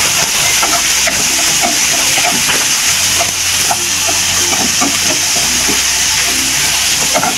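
Chicken adobo with liver sautéing in a pan, giving a loud, continuous hiss and sizzle with faint pops, close to the pan and without any voices.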